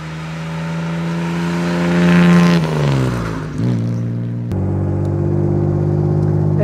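A 1954 Jaguar XK 120 with a 3.5 litre six-cylinder engine pulls uphill, its loud engine note rising under load, dipping as the revs drop for a gear change, then settling into a steady drone.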